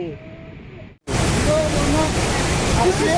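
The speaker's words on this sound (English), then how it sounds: "waterfall" A waterfall on a bamboo trekking trail at Mawryngkhang, Meghalaya: after a quieter opening and a brief dropout, a loud, steady roar of rushing water fills the scene, with people talking over it.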